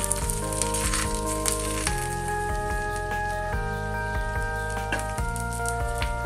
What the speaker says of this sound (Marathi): तवा तापलेला आहे। आपण आता आपले थालीपीठ भाजून घेऊया।